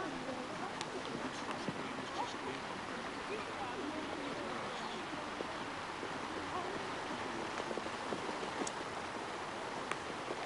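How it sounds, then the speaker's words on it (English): Heavy rain pours steadily onto a golf course during a 1979 pro-celebrity tournament, a dense, even hiss that stays constant throughout, with no clear voices over it. "And the rain, as you can see, really hammering down now."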